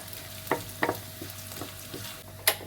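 Small dried anchovies fry in oil, a low steady sizzle broken by a few sharp scraping stirs of a utensil in the pan, with no one speaking.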